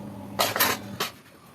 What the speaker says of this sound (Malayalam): അപ്പോൾ അതാ ബീഫൊക്കെ നുറുക്കിയെടുക്കുകയാണ്